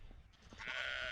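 A sheep on a farm gives a single short bleat, moderately close, following a few soft rustling sounds.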